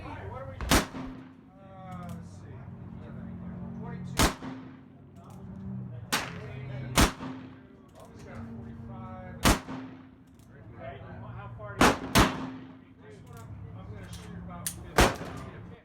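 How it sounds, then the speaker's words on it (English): A .45 Colt revolver fires black powder loads outdoors, with sharp, loud booming reports spaced a few seconds apart, each followed by a rolling echo, while someone talks quietly between shots. "Now let's see how it does in a 45 Colt revolver."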